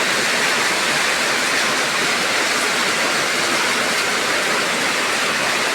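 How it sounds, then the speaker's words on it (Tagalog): Heavy rain roars as a dense, steady wash of noise with no letup, loud and close, with no voices over it. "Yan, lakas ng ulan mga idol."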